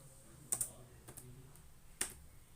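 A computer keyboard is typed on while entering values for a chi-square test, with a few sharp, distinct key clicks spread out in short irregular bursts, close by and quiet, with no talking.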